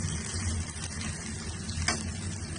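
Scallion whites and ginger frying in oil in a pan, a soft, continuous sizzle with a brief louder crackle near the end and no talk.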